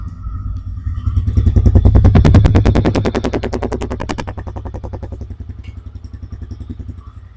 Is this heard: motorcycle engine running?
yes